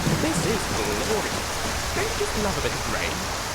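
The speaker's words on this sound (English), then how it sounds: "This is more than a bit of rain." Rain falling in the video game Skyrim, a steady broadband wash of hiss with faint murmuring voice-like sounds over it, consistent and moderately loud throughout.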